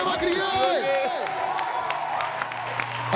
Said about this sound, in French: Applaudissez pour les mémés, elles sont incroyables.